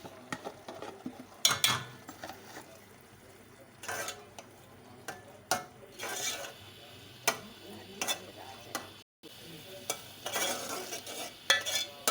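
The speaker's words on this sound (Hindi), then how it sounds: "अब इसमें मैंने जो चटनी बनाई थी अलग से टमाटर और प्याज वगैरह की, हरी मिर्ची, वो मैं डाल रही हूँ और इसको मैं अच्छे से मिक्स करूँगी" Spicy chana dal is stirred together with a tomato, onion and green chili chutney, giving irregular spoon scrapes and clicks against the pot over a faint sizzle, close up with no talking.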